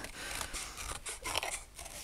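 Scissors cut through paper during a scrapbooking craft, giving a run of crisp, close snipping and crunching strokes with no talk.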